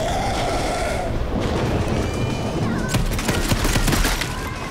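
Dense, busy gunfire from a virtual reality shooter game. Clustered shots and crashes run over a thick wash of background noise, growing more punchy and clipped toward the end.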